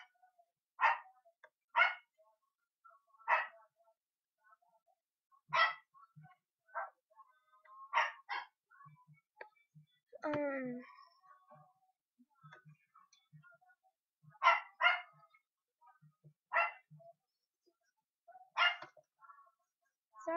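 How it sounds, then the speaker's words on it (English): A pet dog barks in short, sharp bursts scattered at irregular intervals, fairly faint and slightly distant indoors, with one whining yelp in between and quiet gaps of silence. "Sorry if you can hear my dog barking in the background."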